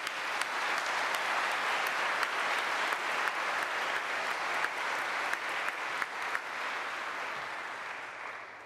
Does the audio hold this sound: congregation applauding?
yes